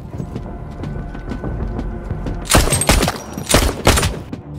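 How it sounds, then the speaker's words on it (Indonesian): A film shootout erupts into gunfire, with a rapid cluster of loud, close shots bursting out in the second half after a quieter stretch of softer thuds. "James dan Mike kemudian mulai menembaki semua anak buah Rusty satu persatu hingga terjadilah baku tembak yang sengit"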